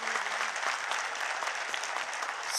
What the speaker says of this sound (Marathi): प्लीज जोरदार टाळ्या सचिनसाठी तुम्ही वाजवा